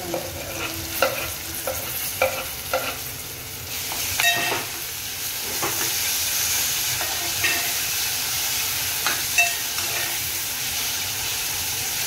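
Onions and tomatoes cooking in a pan for a potato bhaji, with a steady broadband sizzle and scattered clacks of a spoon stirring against the pan, close and continuous throughout.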